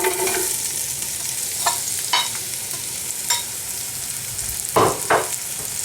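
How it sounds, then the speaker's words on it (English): Leeks and spring onions hit hot olive oil in a pan, giving a steady bright sizzle with a few louder crackling bursts and stirring scrapes, close and with no talk. "Once the oil is hot, add the leeks and spring onions to the pan."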